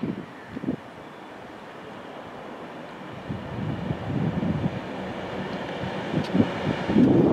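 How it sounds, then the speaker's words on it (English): A Virgin Pendolino train passes through Stafford station bound for London Euston, a low rumbling roar that swells from about three seconds and holds steady, with some wind buffeting on the microphone. "Got Virgin Pendolino now passing through Stafford, going to London Euston via Birmingham New Street."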